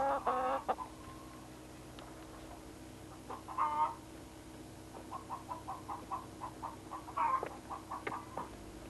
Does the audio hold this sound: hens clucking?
yes